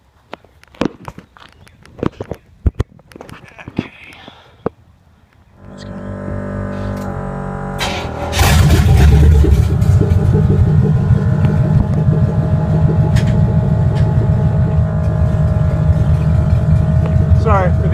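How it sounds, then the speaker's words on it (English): An air compressor runs inside a bagged 1955 Chevy panel truck with open headers, starting after a few seconds of knocks and clatter, then a loud, steady drone with the engine rumble building beneath it. "Sorry for the air compressor noise. I gotta run it just in case anything goes wrong and I need air."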